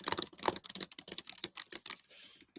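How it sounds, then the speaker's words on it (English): Fast, steady clicking of keys on a computer keyboard, heard close and alone as a dense run of strokes that thins out toward the end. "You love the typing sound?"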